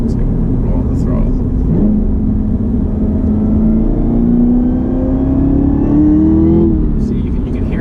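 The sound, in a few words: Camaro ZL1 supercharged engine revving, throttle roll-on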